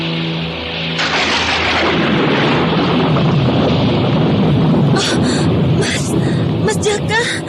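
A loud crash of thunder breaks over steady heavy rain at night in a radio drama, rolling and rumbling for several seconds while the downpour hisses on, with a few sharp crackles near the end.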